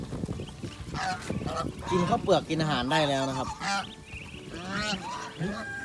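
Geese on a farm honk close by in loud, drawn-out calls while someone talks over them, the honks swelling and overlapping through the middle before easing off.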